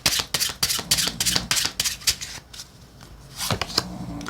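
Tarot and oracle cards being shuffled in rapid riffling bursts of crisp papery flicks, close and fairly loud, with a brief lull before a few final slaps of the deck.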